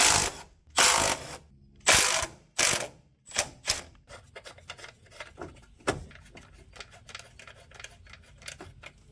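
A hand ratchet loosening the top suspension bolts on a Geo Metro, with a few loud, separate pulls followed by steady rapid clicking of the pawl, close up and with no talk.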